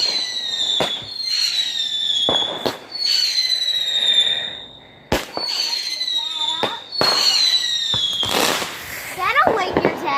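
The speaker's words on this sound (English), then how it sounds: "Oh, there's so many fireworks going on." Fourth of July fireworks bursting nearby, a run of loud sharp bangs with crackling and whistling trails, repeating irregularly over about ten seconds.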